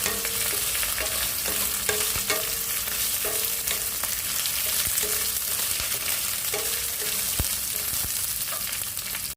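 Okra fried in a pan for a vendakka manthi dish, a loud steady sizzle broken by regular scraping stirs of a spatula, close up with no speech.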